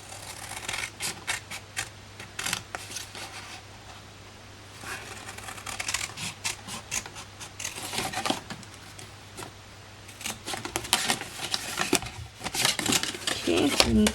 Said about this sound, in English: we're going to cut out along those lines we scored on the triangles